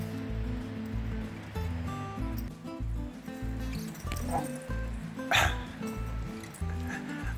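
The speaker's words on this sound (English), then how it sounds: "The dogs are out here playing again this morning." Dogs play outdoors at a campsite on a late-summer morning, giving a few scattered barks and yips at moderate distance over steady low ambient rumble.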